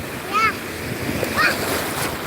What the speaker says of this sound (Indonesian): Ih, ombaknya besar ya.